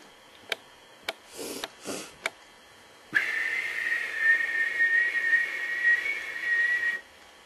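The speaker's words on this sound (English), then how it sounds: "He whistled as he vanished to the other side of the tunnels." After several sharp clicks and a couple of puffs, a long steady steam engine whistle from a Percy the Small Engine episode sounds for about four seconds and then cuts off.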